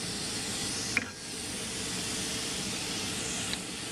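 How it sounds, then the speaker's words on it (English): A spray bottle of cleaner gives a steady, close hissing spray onto a microwave part throughout, with two brief clicks partway through. "I'm just going to spray it"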